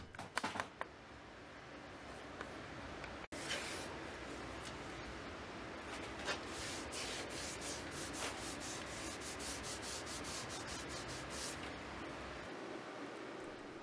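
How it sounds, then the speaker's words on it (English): A rag wiping ebonizing solution onto reclaimed wood for a modern dining table, heard as steady soft rubbing and scrubbing strokes, close and continuous, with occasional sharper swipes and no talking. "you dip a rag in it and you wipe it on the wood"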